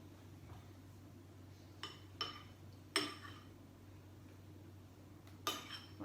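Beaten egg whites folded into waffle batter in a bowl, with a few sharp utensil clinks against the bowl standing out over a low steady background hum.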